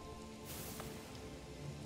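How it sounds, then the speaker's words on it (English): Soft, steady rainfall in the video game Wuppo, a faint continuous hiss of drops on a surface with a low background hum and no voices. "Of course, now it's raining."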